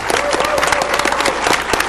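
An audience at a UCLA budget meeting applauds the introduction of California Governor-elect Jerry Brown, a dense, loud burst of many hands clapping continuously without a break.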